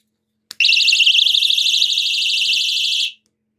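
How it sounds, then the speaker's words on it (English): A personal rape alarm, kept in a bag and set off by pulling out its ring, shrieks at close range in a loud, continuous warbling siren for about two and a half seconds after a sharp click, then cuts out. "Pull the ring out, like so, and it goes off."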